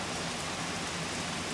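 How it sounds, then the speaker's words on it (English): Steady rain hisses evenly across a street during a run of torrential downpours, with a broad continuous wash and no pauses. "it starts raining a wee bit"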